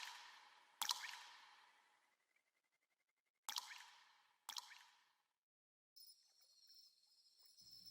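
Water drips in an echoing, dark empty station platform: a few sharp separate drops with short reverberant tails, spaced irregularly, then a faint steady hiss.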